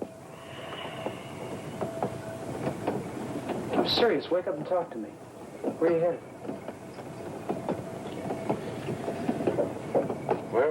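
A moving train rumbles and clatters beneath a conversation, with steady rail noise and occasional louder clanks as people talk over it.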